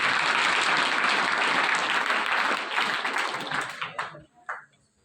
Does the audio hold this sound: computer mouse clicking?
no